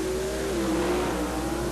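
An American Motors Hornet drag race car launches wheels-up down the strip at the 1976 NHRA World Finals. Its engine roars loud and steady as it accelerates, with no talk.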